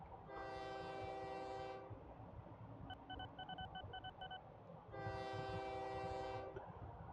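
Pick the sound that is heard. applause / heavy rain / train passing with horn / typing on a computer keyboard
train passing with horn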